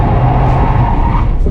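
A BMW 530i E34 engine roars loud and close as tires scrub and slide through a Scandinavian flick at a drift event, a sustained rough drone with no voices.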